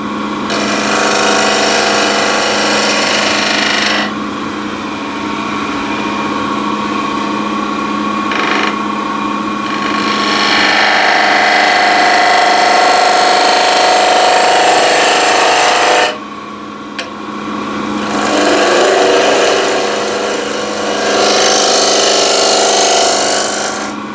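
A scraper held against spinning wood on a lathe gives a loud, continuous rasping hiss over a steady motor hum, with a few short breaks where the cut stops.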